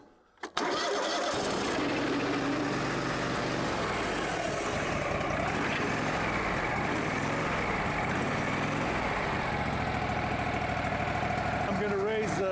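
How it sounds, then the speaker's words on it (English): A Woodmizer LT15 portable sawmill engine catches right away after a brief quiet moment and then runs loud and steady, a rough continuous drone close by. "Pull out the choke. And let's see if she goes."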